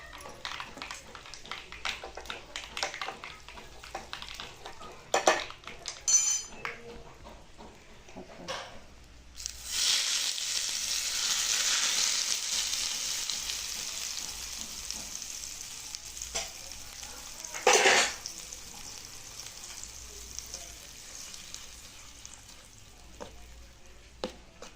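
Mustard seeds, curry leaves and asafoetida sizzling in hot oil while tempering a raw mango chutney; quiet crackling at first, then a loud burst of hissing sizzle that fades, with scattered clicks and stirring.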